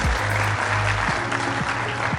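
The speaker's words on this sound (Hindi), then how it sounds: "आबिद हुसैन साहब के लिए ज़ोरदार तालियां बजाएं।" An audience at a gala event for a steakhouse chain claps steadily, a short burst of dense, even applause heard close, with a low hum underneath.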